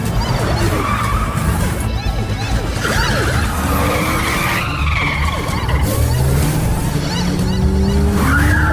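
Car tires skid and squeal loudly through a movie car chase as several security vehicles pursue, with engines roaring continuously and sweeping screeches rising and falling near and close.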